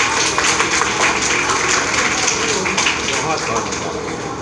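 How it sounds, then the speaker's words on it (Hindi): An audience at a talent education award ceremony welcomes a guest with steady, dense applause, a close, continuous patter of many hands that holds evenly throughout and eases slightly toward the end. "जोरदार तालियों से इनका स्वागत करें।"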